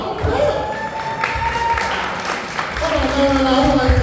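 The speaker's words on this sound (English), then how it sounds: "Y'all clap." An audience at a comedy show claps and applauds fairly loudly, the clapping rising and steady, with someone talking over it.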